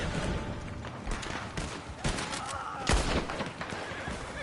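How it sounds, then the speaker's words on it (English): Gunfire in the Western video game Red Dead Online: a dense, busy stretch of repeated shots and cracks layered with horse whinnies and hoof movement, continuous and fairly loud throughout. "I heard the gunshots already."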